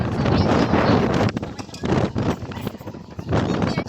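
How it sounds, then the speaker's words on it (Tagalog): Strong gusty wind at Mag-asawang Tulay buffets the microphone in a low, roaring rumble that surges and eases, with faint voices now and then. "Lakas ng hangin."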